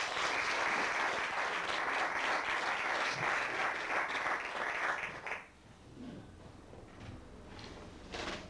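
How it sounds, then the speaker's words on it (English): Audience applause for poet Warren O'Connell at a poetry conference in Dublin, a steady full round of clapping for about five seconds that then thins out to a few scattered claps and room noise. "So I'd like to give everybody to give a warm round of applause to Warren O'Connell."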